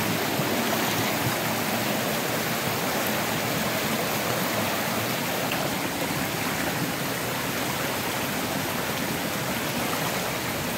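Continuous rushing of a flowing stream at night at Rajapur Katalkada, a steady broadband wash of water heard close and alone, fairly quiet and even throughout.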